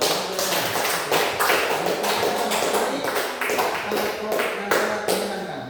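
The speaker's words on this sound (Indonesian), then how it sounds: "Tepuk tangan dulu." Students in a classroom clap their hands together in a steady, sustained round of sharp, close claps that runs for several seconds.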